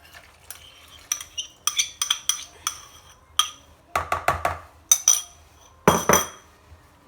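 Dough for chocolate beignets being mixed with warm milk and yeast in a bowl, heard as irregular clinks and scrapes of a utensil against the bowl, close and fairly loud, in bursts separated by short pauses.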